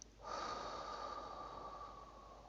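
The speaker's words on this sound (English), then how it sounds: "Let's go ahead and take some breaths in and exhale out" A single long, deep breath drawn and released steadily for over two seconds, close and fairly loud, with no talking.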